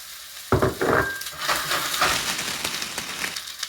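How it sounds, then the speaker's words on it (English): Onions sweating in hot oil over medium heat in a pan, a close, steady sizzle and crackle that begins abruptly and holds through, with light stirring scrapes. "So I'm gonna add the onions first. Do a little bit of sweating."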